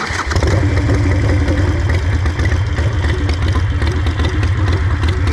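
A Harley-Davidson Sportster 883 Iron with fuel injection, just fitted with a new fuel pump and oxygen sensor, catches and settles into a loud, close, lumpy idle with a steady low throb and mechanical clatter.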